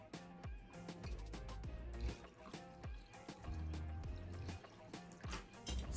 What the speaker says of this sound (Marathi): यात थंड पाणी घालून